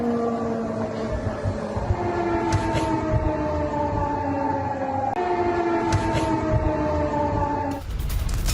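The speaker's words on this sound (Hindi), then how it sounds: "एयर रेड अलर्ट सायरन की आवाज सुनी गई पोलैंड में।" An air raid alert siren in eastern Poland wails continuously, its tones gliding downward and rising again in long cycles, loud and sustained with a low rumble beneath and no voices.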